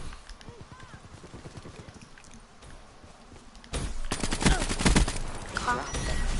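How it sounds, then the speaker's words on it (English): Gunfire from behind in Black Ops 3, a dense burst of rapid shots that breaks in loudly midway over game sounds, with a voice talking across the clip. "Someone's shooting from behind."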